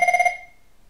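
A Cisco IP desk telephone rings for an inbound call, giving a single short burst of rapid electronic trilling that fades out quickly in a quiet room.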